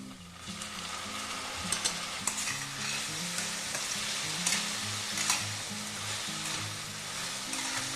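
Vegetables and lightly fried onions stir-fried in a pan for pasta give a steady close sizzle with scraping stir strokes throughout, over soft background music.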